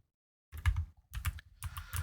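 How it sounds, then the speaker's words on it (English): Computer keyboard typing in a ROBLOX game setting: a few quick bursts of clicking keystrokes after a brief silence, close and fairly quiet, with no voices. "These are intense keyboard clicking noises."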